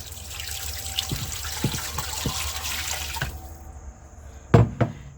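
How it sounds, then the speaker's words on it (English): Water pours into a pressure cooker holding chicken legs and quarters, a close, steady splash and gurgle that thins out near the end before a few clattering knocks. "Add your water."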